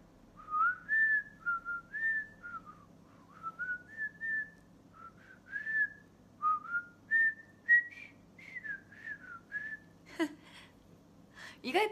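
A person whistles a meandering melody of short rising and falling notes, close and clear, ending with a couple of breathy bursts.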